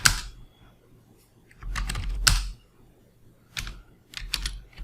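Someone types a password on a computer keyboard at an Ubuntu Linux server, giving short bursts of close, clicky keystrokes separated by brief pauses.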